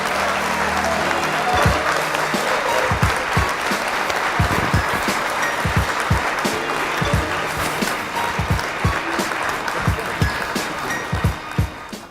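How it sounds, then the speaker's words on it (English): A lively crowd claps and cheers at length in a loud, continuous wash of applause, with heavier thumps and stomps scattered through it and voices mixed into the din. "we need to get people clapping and cheering, right?"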